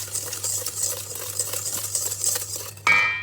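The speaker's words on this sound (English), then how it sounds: "we're going to just whisk a little" A whisk taps and scrapes rapidly against a bowl while beating egg white foam with sugar and vanilla for meringue, ending in a sharp ringing clink of metal.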